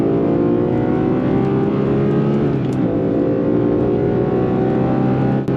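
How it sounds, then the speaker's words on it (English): A high-revving Porsche 911 GT3 engine roars continuously and loudly, pitch sweeping up through the gears with quick shifts during a fast lap. "I'll stay quiet for this GT3 lap so you can enjoy the engine sound"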